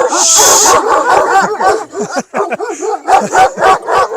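A shepherd's henna-coloured dog, from a herder living fifteen years in the mountains, lets out a loud, close run of rapid yipping barks mixed with high whimpers, coming in quick bursts.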